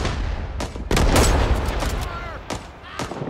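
Dense gunfire from the Vietnam War game Rising Storm 2: Vietnam, with bursts of rapid shots and loud cracks that pile into a continuous fusillade before thinning out near the end. Faint talk sits beneath the shooting.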